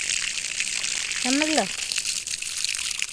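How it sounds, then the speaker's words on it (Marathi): Water gushing steadily onto the base of a planted tree, a continuous broad pouring rush throughout, with someone speaking briefly over it. "पूर्ण त्याची शांतता होईपर्यंत पाणी टाकलं पाहिजे"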